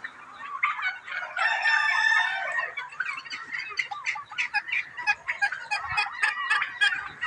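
Turkeys loose outdoors foraging on natural food, giving repeated bursts of gobbling and clucking at close range, rising and falling in irregular calls.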